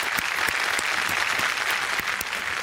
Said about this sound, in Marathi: त्याच्यासाठी एक जोरदार टाळ्या झाला पाहिजे.